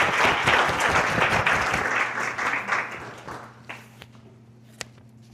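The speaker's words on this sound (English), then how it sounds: "Round of applause for Jake." Applause from a seated audience at a legislative action meeting, loud and dense for about two seconds, then thinning into scattered claps and a few last taps as it fades out.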